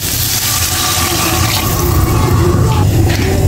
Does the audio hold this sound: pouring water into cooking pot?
yes